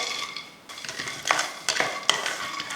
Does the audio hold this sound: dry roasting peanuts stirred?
yes